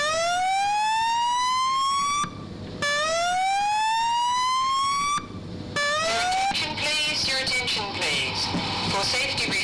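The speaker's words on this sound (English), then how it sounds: "If the evacuation tone sounds, which sounds like this" A building fire evacuation alarm plays loud and alone: repeated rising whooping sweeps with pauses between, then a steady electronic tone with a background of noise.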